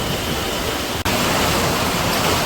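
Water from a waterfall gushes into a pipe during heavy rain, a steady, dense roar that holds evenly throughout apart from one brief dropout.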